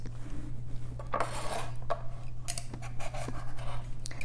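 Knife slicing a carrot into thin slivers on a cutting board for a chawanmushi garnish, with a run of soft, quick scraping and tapping strokes close by over a steady low hum.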